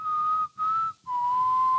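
A person whistles a clear, steady high note alone in three close phrases separated by brief breaths, the last phrase dropping slightly lower in pitch.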